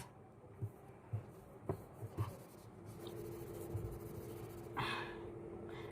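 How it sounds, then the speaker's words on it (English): Cotton rubbed over pencil shading on paper, blending dark and light graphite tones: soft, close brushing strokes with a few sharper dabs and scuffs, no talking. "Using cotton to mix 2 shades of different shades of pencil."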